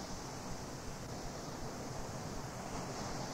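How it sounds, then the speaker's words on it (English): Waves roll up onto a sandy beach in a steady, broad rush of surf with no clear breaks and no voices, loud and continuous throughout. "the waves are rolling up and over our feet"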